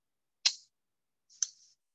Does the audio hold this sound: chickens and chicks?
no